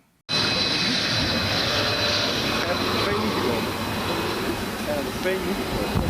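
An American F-16 fighter jet roars steadily for several seconds, a loud broadband engine rush that stays close and fairly even throughout.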